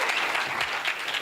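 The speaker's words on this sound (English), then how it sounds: "That was not a very deserving round of applause for the content" A short burst of audience applause at a youth panel discussion in Botswana, a steady clatter of many hands clapping without pause.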